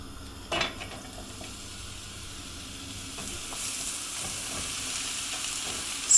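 Onions fry in a pan over low heat for caramelising, making a quiet, steady sizzle with a soft knock as they go in and a faint stir near the end.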